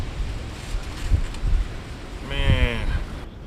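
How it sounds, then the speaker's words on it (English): Strong storm wind in the Northeast gusts steadily outdoors at night, a continuous rushing roar with low buffeting thumps against the microphone; a brief tonal whine rises near the end. "this is terrible wind"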